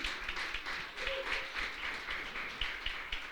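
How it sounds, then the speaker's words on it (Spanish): Distant audience applause in a church gathering, a steady patter of many hands clapping at moderate level throughout, with no talk over it. "Le damos un aplauso a la distancia."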